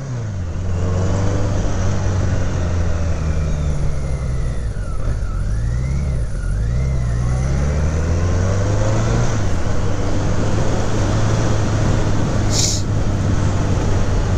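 A 1985 BMW K100RS motorcycle pulls away under steady engine drone, the pitch rising and falling through a few gear changes as it rides off, the sound remaining close and fairly loud.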